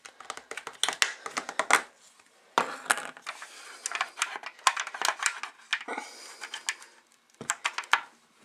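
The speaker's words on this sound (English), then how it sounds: "a pair of scissors to cut my wicks down." Scissors snip candle wicks in quick irregular bursts of sharp clicks and cuts, close and fairly loud, with short quiet gaps between clusters and handling noise from a glass jar.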